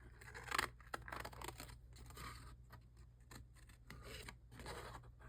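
Scissors snip through paper in quiet, irregular cuts with soft rustling and scraping as the paper is turned, close by and faint, with no talking.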